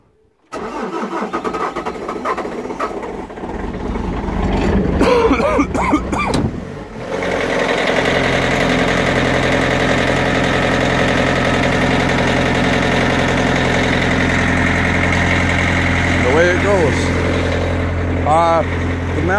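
A cold skid steer engine cranks and catches after a brief pause, sputters through a rough start, then settles into a loud, steady diesel idle that runs on evenly nearby.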